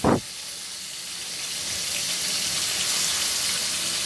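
Poa fish frying in a pan of hot oil, a brief thump and then a loud, steady sizzling hiss that carries on unbroken without any talk.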